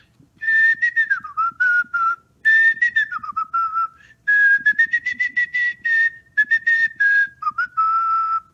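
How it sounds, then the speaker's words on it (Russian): Melodic artistic whistling, done as a microphone check, runs in short trilled phrases with brief pauses, close and clear against a quiet background with no talking. "Но вначале проверка микрофона и художественный свист."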